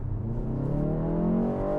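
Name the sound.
BMW M135 artificial Iconic Sounds upshift engine sound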